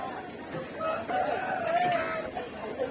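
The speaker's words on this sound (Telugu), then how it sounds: "చాలా పెద్ద కోళ్ళు బొంత కోళ్ళు అంటారండి." Large country chickens at a busy tribal weekly market cluck and a rooster crows, moderately near, over steady crowd noise and background chatter.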